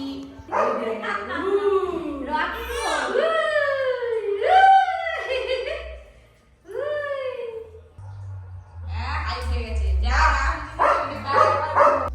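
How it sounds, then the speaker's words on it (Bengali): A dog in a home gives a run of close, loud whining yelps and howl-like cries, pausing briefly before a rougher, noisier stretch of sound. "ওই যে রকি ডাকছে, রকি কে কাঁদে দেখি"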